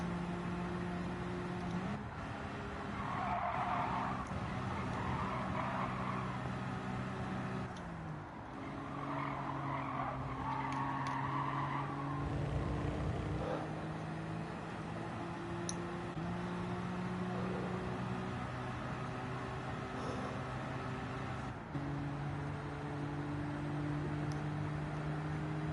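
A front-engined, rear-wheel-drive Suzuki Cappuccino with a small turbocharged 660cc engine is raced at Road Atlanta in Gran Turismo 7. The engine drones steadily and shifts pitch through gear changes, with tires squealing and skidding underneath, and no voices.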